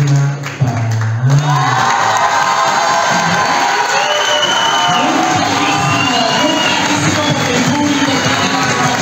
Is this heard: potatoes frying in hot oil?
no